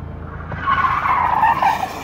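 A car skids over police spike strips during a high-speed chase, giving a loud, sustained tire squeal that swells and holds for about two seconds over a low engine rumble, with no talk.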